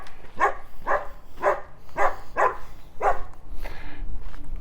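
A dog in an alley barks five times in an even, spaced rhythm, fairly close and loud, then gives a shorter whine-like sound, with faint outdoor background between barks.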